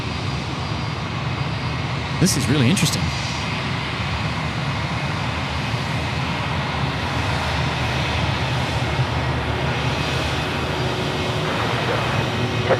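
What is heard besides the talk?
aircraft jet engine noise at Sydney Airport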